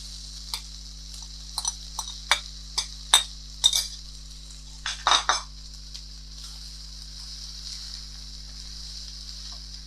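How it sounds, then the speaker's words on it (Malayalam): Cooked rice being stirred into a mango mixture in a pan: a series of sharp spoon scrapes and clinks against the pan, close and distinct, over a faint steady hum and light sizzle, then quieter sizzling alone. "ഇതിലേക്ക് വേവിച്ച് വെച്ച ചോറിട്ട് ഇളക്കാം."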